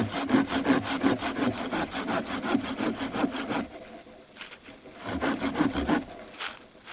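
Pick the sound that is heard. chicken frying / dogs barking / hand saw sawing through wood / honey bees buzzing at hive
hand saw sawing through wood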